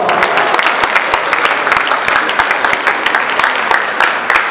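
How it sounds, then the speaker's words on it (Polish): Audience applause for the finalists of the Fresh Faces Radom 2016 contest at Galeria Słoneczna, a dense, steady wash of many hands clapping close by, sustained evenly with no voices over it. "Duże brawa."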